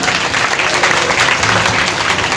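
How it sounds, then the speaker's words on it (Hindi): A crowd at a Bhagwat Katha religious gathering claps loudly and steadily, a dense burst of applause heard close throughout. "एक बार पहले तो जोरदार तालियां"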